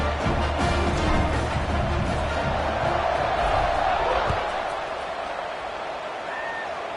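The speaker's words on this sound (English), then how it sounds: "this crowd is buzzing after that last score" Crowd at an NCAA college football stadium buzzing after a score, a broad, steady roar of voices that holds and then eases slightly.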